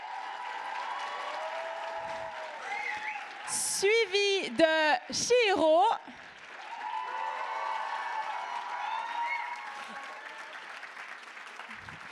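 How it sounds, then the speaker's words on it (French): A convention crowd applauds jury members introduced onstage at a group cosplay contest, steady clapping with bursts of cheering and an announcer talking over it. "qu'on peut applaudir bien fort"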